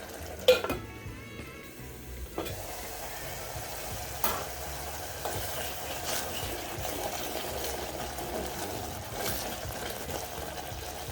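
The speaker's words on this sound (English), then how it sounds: "I'll cover it for about a minute so that the spice can cook." Spices for omena fry in a covered pan, giving a soft, steady sizzle with a few light clinks of lid or utensil near the start. Nothing else competes with it.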